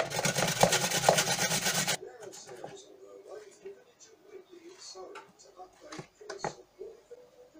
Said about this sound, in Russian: А картошку мы будем натирать на вот этой терке